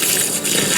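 Water gushes steadily out of an RV water heater being rinsed, a dense, continuous rush with no pauses.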